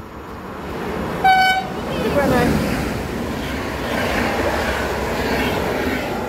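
A short horn toot from a RegioJet passenger train sounds over steady rumbling rail noise as it passes at Vranovice; a voice briefly speaks nearby.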